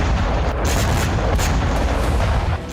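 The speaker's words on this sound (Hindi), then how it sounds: "यूक्रेनी ड्रोन पहुंचता है और फिर टक्कर से जोरदार धमाका होता है।" A Ukrainian drone slams into Russian BMP infantry fighting vehicles, setting off a loud, sustained booming roar with repeated heavy thuds that drops off abruptly near the end.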